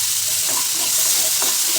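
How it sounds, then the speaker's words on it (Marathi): Tomatoes with salt sizzle in a hot pan, a steady, close, hissing crackle with faint stirring touches and no talk. "2-3 मिनिटासाठी टोमॅटो शिजवून घ्यायचा आहे."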